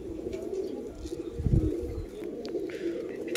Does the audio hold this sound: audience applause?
no